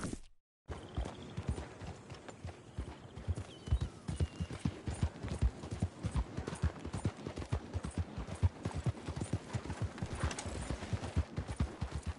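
A horse's hooves clip-clop at a steady trotting rhythm for the whole stretch in Red Dead Redemption 2, clear and close, with faint ambient noise behind and no talking.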